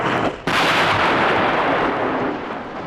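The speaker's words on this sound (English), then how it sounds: "there was a flash and an explosion." A big explosion effect from a Dalek audio drama: a sudden loud blast cuts in, then a dense roaring rumble rolls on for a few seconds and slowly fades, with no voices over it.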